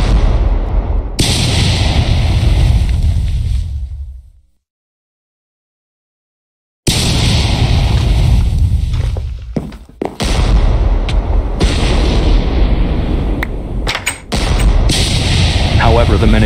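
A capital ship bombards a main base in a Minecraft-style civil war battle: loud, dense rumbling blasts and booms roll continuously, fade out into a few seconds of silence, then resume with sharp, scattered explosive cracks over a heavy rumble.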